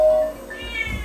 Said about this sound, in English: The cat alarm's going off.